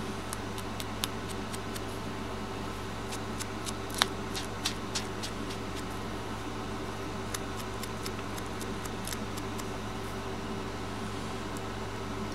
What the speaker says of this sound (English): I actually did decide just to chop it down with my scissors